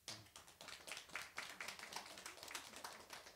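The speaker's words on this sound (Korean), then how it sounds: "박수 한번 해주십시오." A church audience at a Korean service honoring newly ordained elders and deaconesses claps together, a quiet, distant patter of many hands in a fairly steady rhythm.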